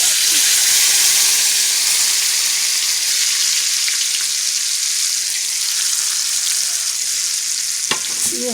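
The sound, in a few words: hot tempering (baghar) sizzling for squash raita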